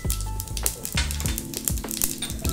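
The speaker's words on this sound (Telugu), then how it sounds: "సో మనకి ఆయిల్ హీట్ అయిపోయింది, కొద్దిగా ఆవాలు, కొద్దిగా జీలకర్ర" Mustard seeds and cumin sizzle and pop in hot oil for an Aloo Roast, with a steady close crackle broken by sharp clinks and a few low thumps, with no voice over it.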